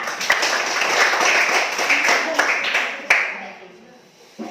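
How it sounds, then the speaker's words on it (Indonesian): A class of students claps hands together, a dense steady patter of many hands that goes on for about three seconds and then fades out, with voices mixed into the clapping. "Ya, tepuk tangan."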